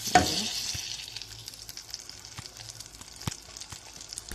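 Butter and a mixture being stirred in a pot over heat for a caramel and coffee entremets cake, a soft steady sizzle with light scraping strokes, close and alone.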